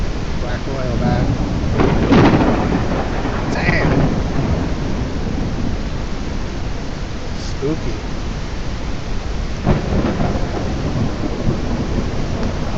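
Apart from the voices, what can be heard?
thunderstorm in video game Belts of Iron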